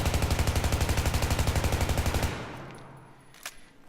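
A fully automatic weapon fires a rapid, even burst of about two seconds in Battlefield 3, loud and close, then cuts off into a fading echo and a brief clink.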